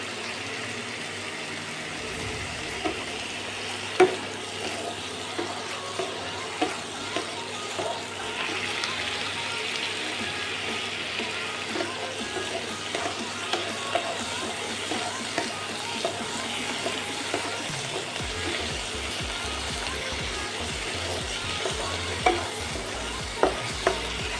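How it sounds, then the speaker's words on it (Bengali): Chopped onions fry in a pan for a potato curd curry, with a steady sizzle and repeated scraping strokes of a spoon stirring throughout, close and fairly loud, with no talk. "ভালো করে ভেজে নিতে হবে যাতে পেঁয়াজের জলটা একদম শুকিয়ে যায়"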